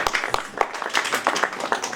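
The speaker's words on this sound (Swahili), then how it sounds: "Tunawasihi kukaribisha kwa makofi makubwa." Applause from a congregation welcoming guests at the opening of a francophone church in Butembo, a crowd clapping in irregular claps that rise and fall over a couple of seconds.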